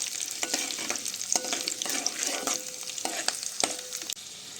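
An okra and egg curry fries in a pan with a continuous close sizzle, broken by repeated spatula taps and scrapes as it is stirred. No one speaks.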